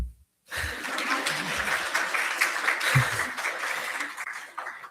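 Applause at a student government senate meeting, a dense steady patter of many hands clapping after a brief pause, continuing at even loudness with scattered low thumps beneath it.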